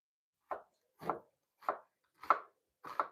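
A knife chops onions into long thin strips on a cutting board, five distinct crisp thunks spaced about half a second apart, close and fairly quiet with no talk.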